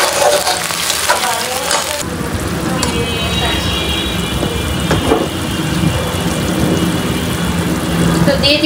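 Water poured into a pan of browned, frying onions for a beef dish bursts into a loud, hissing sizzle that settles into a steady crackling bubble, with a brief voice heard near the start.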